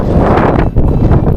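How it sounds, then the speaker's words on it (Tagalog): Loud, gusty wind buffeting the microphone, a continuous roaring rush with brief dips, close and overwhelming. "Ang lakas ng hangin."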